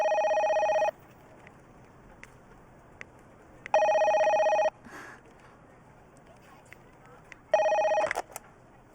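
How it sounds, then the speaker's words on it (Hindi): A telephone rings in three loud electronic bursts of about a second each, evenly spaced, in a quiet room, with brief faint sounds in the gaps. "हाँ राज, फोन है।"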